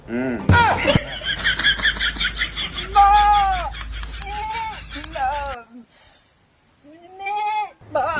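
A person mimics a nanny goat's bleat in a string of wavering, nasal calls, loud and close, with brief pauses between them.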